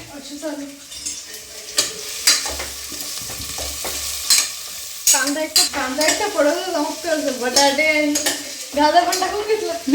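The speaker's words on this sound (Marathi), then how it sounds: "आधी कांदे थोडेसे परतून घे आणि मग बाकीच्या सगळ्या भाज्या टाकून देशील" Chopped onions for pav bhaji fry in a hot pan, sizzling steadily while a spoon stirs and scrapes them, with some voices mixed in close by.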